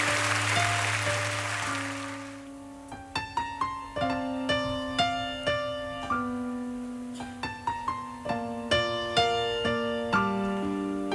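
Audience applause fills a televised Hari Raya concert, Simfoni Lebaran 2011, as a singer is welcomed. A dense wash of clapping lasts about two seconds, then gives way to instrumental music that carries on to the end.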